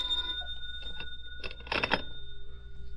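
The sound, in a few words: telephone ringing in old time radio drama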